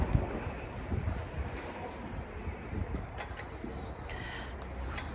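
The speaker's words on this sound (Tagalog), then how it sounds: "Ang lamig, uy, ang hangin," Wind blows steadily outdoors beside a church in cold weather, a low rumbling gust noise against the microphone that rises and falls softly for several seconds without voices.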